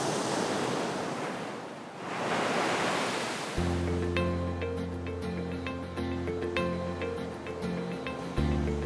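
Ocean waves of the East Sea at Samcheok wash in a steady, loud roar of surf for the first few seconds; then a sustained musical tone with bright chiming notes layers over the fading wash.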